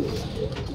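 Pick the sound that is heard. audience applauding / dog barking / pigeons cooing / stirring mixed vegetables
pigeons cooing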